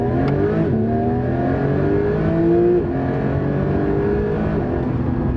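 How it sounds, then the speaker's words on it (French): Porsche 992 GT3 accelerating hard through its gears, a loud, close engine howl climbing in pitch with short breaks at the shifts, heard alone without talking. "première accélération de ma nouvelle Porsche 992 GT3"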